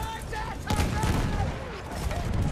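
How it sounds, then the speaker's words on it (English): Enemy machine gun fire in the multiplayer shooter Battlefield 1 on PS4 Pro, a dense rattling burst of shots mixed with battle noise and rumble, loud and continuous, with voices in the background. "Enemy machine gun."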